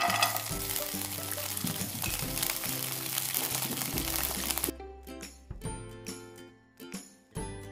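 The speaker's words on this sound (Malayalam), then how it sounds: "കാഷ്യൂനട്ട്സും റേസിൻസും വറുത്തെടുക്കാം ഒരു ടേബിൾ സ്പൂൺ നെയ്യ്" Cashew nuts and raisins sizzle in a tablespoon of ghee with a soft, steady frying hiss that stops partway through. Quieter clinks and stirring follow, and the whole sound is faint.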